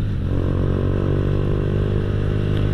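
A Honda Astrea Grand motorcycle fitted with a bobokan bass exhaust runs steadily nearby, its deep, even engine drone continuous and loud with no voices over it.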